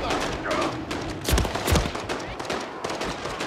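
Bursts of rapid gunfire in the video game Modern Warfare 3, a dense loud clatter with a couple of heavier booming shots, mixed with voices speaking over the fighting.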